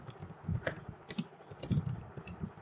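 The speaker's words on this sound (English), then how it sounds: "I'll type here a topic name, say consumer behavior" Close, quick keystrokes rattle on a computer keyboard as a topic name is entered into a search box, a short irregular burst of clicks with no voice.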